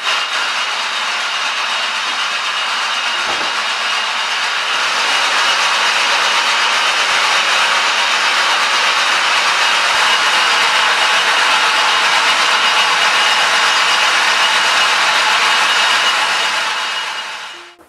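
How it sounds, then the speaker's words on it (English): A rope walk machine spins strands together into a horse lead rope, giving off a steady broadband whir and hum that holds for many seconds and then stops abruptly, with no voices. "So now we've spun the rope together"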